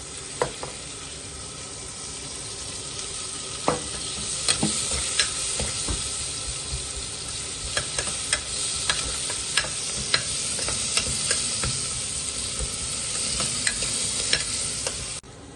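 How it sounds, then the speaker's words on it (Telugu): Onions for egg biryani fry in a pan with a continuous, even sizzle, while a spatula taps and scrapes at irregular intervals, close and steady throughout with no voices. "ఈ ఆనియన్స్ కూడా లైట్గా గోలే వరకు అలా వేయించుకోవాలి"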